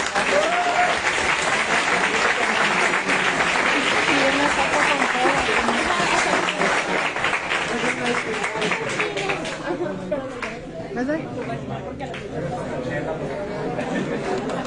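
Vigorous applause from the audience at a World Water Day panel in Mazatlán, Sinaloa fills the room, then fades after about ten seconds into crowd chatter and talking as people settle.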